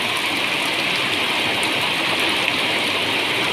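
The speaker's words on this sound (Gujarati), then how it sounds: "શાનદાર વરસાદ વરસી રહ્યો છે" Heavy evening rain pours down in Dhanpur taluka of Dahod district, a dense, steady roar of water that stays loud and unbroken throughout.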